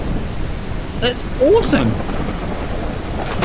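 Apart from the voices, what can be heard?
rain and thunderstorm from video game Kayak VR: Mirage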